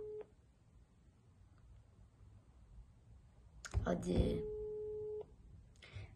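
A phone call goes unanswered, with faint ringback tones, clicks and a brief spoken word, then a long steady tone near the end.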